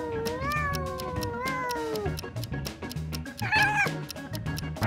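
A cat gives two drawn-out meows, one long and wavering, a second shorter one later, over steady rhythmic background music.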